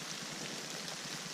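Steady rain falls on the Colorado Trail after a hailstorm, a constant close hiss of drops spread evenly with no pauses and nothing else standing out.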